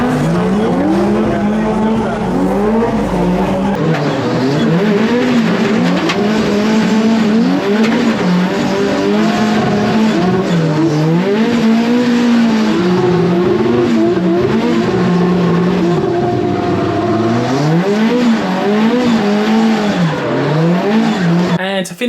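A drift car on a demo run at a drifting event in Ireland, spinning through repeated 360s: a loud, close engine wails up and down in pitch, mixed with tire squeal throughout.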